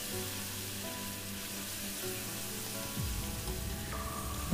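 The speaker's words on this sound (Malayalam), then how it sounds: "ഇതിലേക്ക് ബീഫ് വേവിച്ചതും കൂടി ചേർത്തിട്ട് നന്നായിട്ടൊന്ന് വറ്റിച്ചെടുക്കണം" Cooked beef sizzling with onions and curry leaves as it reduces in a pan, a steady soft hiss with faint crackle. A brief stir or clatter comes near the end, and no one talks.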